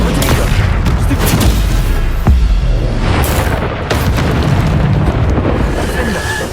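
Bombarda spell explosions burst in Hogwarts Legacy amid loud combat noise, a dense run of booms and impacts with one sharp hit standing out, continuous and close.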